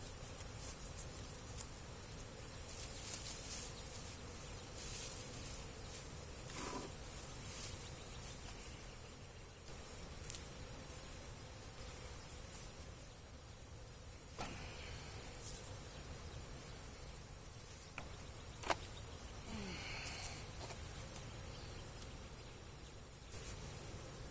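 Honeybees hum at an open hive during a spring inspection, a steady, faint drone with a few soft knocks and clicks from handling the frames.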